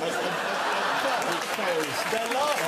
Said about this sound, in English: they're laughing, they're laughing, and they're agreeing, they're clapping